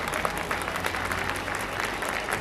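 An audience applauds at a school annual concert, a brief burst of dense, even clapping from a large crowd filling the hall at moderate volume.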